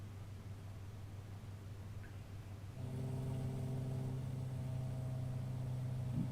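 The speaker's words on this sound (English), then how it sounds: "I hear an engine that's not mine." Another player's piston aircraft engine in a flight simulator, beside a Beechcraft Model D18S taildragger on the runway: a low steady drone that steps up in loudness partway through and then holds as a constant hum.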